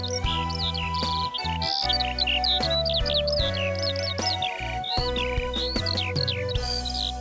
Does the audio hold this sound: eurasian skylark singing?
yes